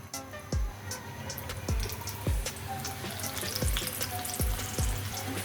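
Chicken spring rolls fry in hot oil with a steady, soft hiss, punctuated by a regular series of dull low thumps about every half second, fairly quiet and with no voices.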